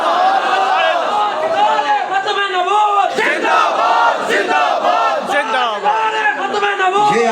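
A large crowd at a religious gathering chants slogans of Khatm-e-Nabuwat in loud unison, voices rising and falling in waves that fill the whole stretch, close and dense.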